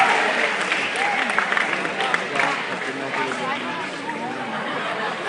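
An audience at a school quiz event in Pune claps in a dense, continuous burst of applause lasting several seconds, mixed with crowd chatter and hubbub.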